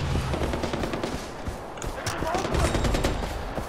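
Rapid gunfire from the video game Far Cry 4, loud bursts and continuous shots filling the clip with dense, busy combat noise throughout.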